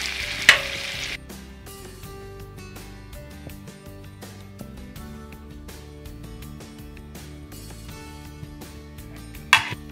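Salmon in ginger sauce sizzles softly in a covered pan with a steady low frying hiss, broken by a sharp clink of the lid near the start and another near the end.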